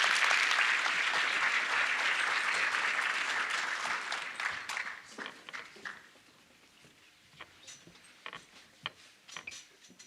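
Audience applause at a United Way community town hall for a panel, loud and dense at first, then thinning after about five seconds into scattered individual claps that fade out.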